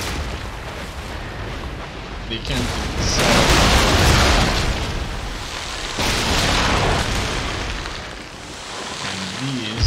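Repeated booming cannon fire from a battle in the strategy video game Empire: Total War, rolling broadband blasts in waves that swell and fade across the clip, with someone talking over them.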